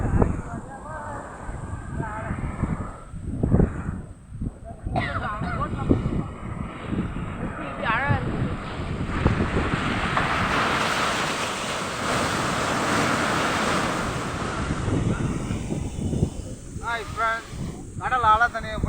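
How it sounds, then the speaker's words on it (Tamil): Sea waves wash and surge around a boat out on open water, a steady broadband roar with wind buffeting the microphone, while people talk intermittently over it, louder near the start and end. "எவ்வளோ பெரிய கடல்."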